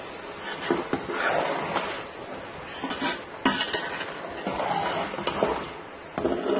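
Carrot halwa is stirred in a metal pan after crushed dry fruits and coconut are added. A spoon scrapes and clinks against the pan in uneven strokes, with a light sizzle underneath. The sound is moderately close and there is no talking.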